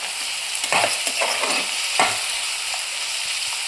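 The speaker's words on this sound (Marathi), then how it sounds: "तर मैत्रिणींनो, वाटाणा चांगला फ्राय झालेला आहे आपला" Green peas fry in a pan for methi matar malai, giving a close, steady sizzle with a few scraping stirs of a spatula throughout.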